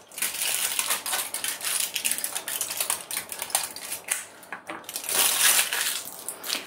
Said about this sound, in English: I just take the PCB and I carefully peel the aluminum